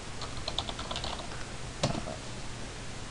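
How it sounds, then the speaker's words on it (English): Quiet keystrokes patter on a computer keyboard in a short run, alone with no talking. "and just type in Malwarebytes"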